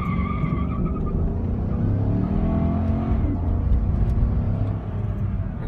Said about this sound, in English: we'll do like a little launch here and you can hear the tires